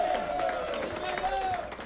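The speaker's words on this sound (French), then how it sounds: "On l'applaudit." Audience applause for a concert's sound technician, broadband clapping with some crowd noise, a sung or sustained tonal line running through it, steady and moderately loud for under two seconds.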